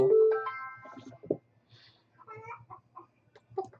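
Chickens cluck and squawk nearby, a loud call at the start followed by scattered softer clucks over a faint steady hum.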